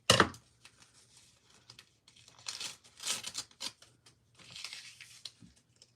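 Scissors cut a thin strip of craft material, giving a sharp snip followed by soft irregular crinkling and cutting rustles, close and fairly quiet.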